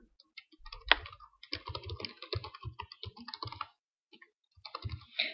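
Rapid clicking keystrokes on a computer keyboard come in quick bursts with a short pause, close and fairly quiet, while a blog address is entered into Windows Live Writer settings.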